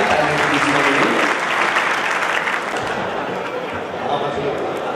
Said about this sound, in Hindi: मैं चाहता हूं उनकी उपस्थिति के लिए एक बार आपकी तालियां आ जाएं और उनको विदाई आपकी तालियों के बीच में मिले।